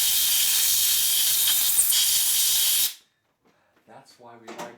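Compressed air is blown into a bolt hole during a rebuild of a 1979 Harley-Davidson Shovelhead 80ci engine, giving a loud, steady hiss for about three seconds that cuts off sharply, followed by someone talking.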